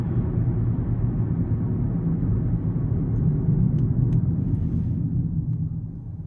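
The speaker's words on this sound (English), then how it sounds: "A little bit of a quick braking test from around 40." 2021 Toyota Corolla LE braking hard from about 40 mph, a steady low road and tire rumble from inside the cabin that eases slightly as the car slows near the end.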